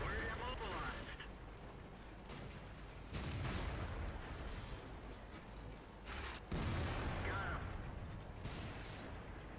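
An IS-6 heavy tank in World of Tanks fires shells in a battle, with several loud booming shots spaced a few seconds apart over continuous rumbling, and a voice talking over it.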